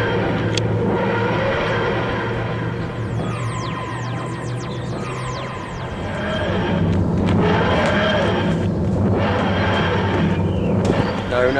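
A spaceship taking off and departing in a science-fiction drama, a rumbling, whooshing engine roar with sweeping falling tones that swells and builds over about twelve seconds, mixed under dialogue and music.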